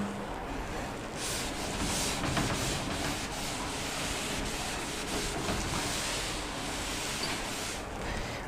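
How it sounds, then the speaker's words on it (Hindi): Writing being rubbed off a board, heard as a steady, close, broadband scrubbing that carries on without a break for several seconds. "मैं यहां से रब कर दे रहा हूं।"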